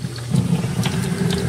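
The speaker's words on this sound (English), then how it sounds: "And I would wash off all the bottles, just, use some warm water," Warm water runs from a tap while glass mead bottles are washed off at bottling time, a steady continuous splashing flow with no talk.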